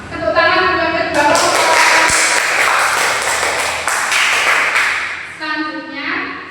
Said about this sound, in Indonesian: Tepuk tangan untuk kedua